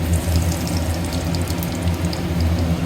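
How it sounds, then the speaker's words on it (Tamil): Mustard seeds spluttering in hot oil in a small pan, a steady dense crackle and sizzle throughout, close and fairly loud, with no voices. "கடுகு நல்லா பொரியட்டும்"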